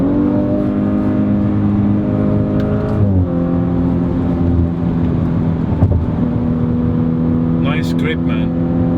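Audi RS5 engine dropping through downshifts with a rev change near the three-second mark, then holding a steady, strong drone under the car, with brief voice sounds from inside the cabin.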